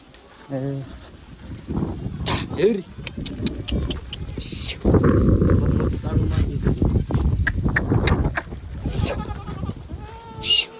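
A herd of goats gathered along a farm path bleats in several wavering calls, some near and some farther off, mixed with people talking loudly and outdoor bustle.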